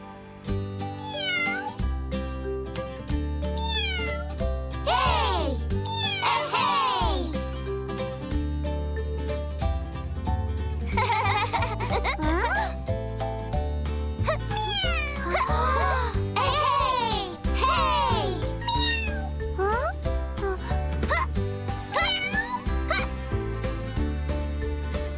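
Kittens meowing in a Cry Babies Magic Tears cartoon, repeated high rising-and-falling mews over steady background music, fairly loud and close, with brief pauses between calls.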